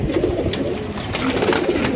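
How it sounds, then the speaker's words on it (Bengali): A restless pigeon in a loft at Kala Chandpur coos in low, soft, repeated murmurs, steady and close over the full two seconds with no voices. "কবুতরটা খুব ছটফট একটা কবুতর"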